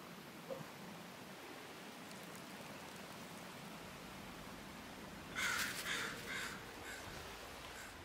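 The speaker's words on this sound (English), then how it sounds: "Crows." Crows in the video game Gears 5 give a short burst of cawing toward the end, heard over a steady rain-like ambient wash with no talk.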